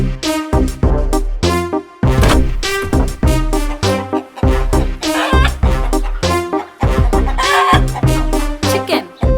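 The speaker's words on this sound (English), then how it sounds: "Chicken." Chickens cluck loudly and continuously in a farmyard-style animal cartoon, with busy, overlapping rhythmic clucks and squawks and a musical backing throughout.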